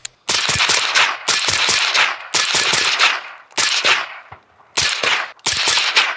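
Rapid strings of .30 caliber rifle shots fire through a PSA Mixtape suppressor, loud and close, in five quick bursts separated by brief pauses.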